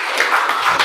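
Students in a classroom clap their hands together, a short, loud, uneven patter of a small group clapping close by, with no voices over it.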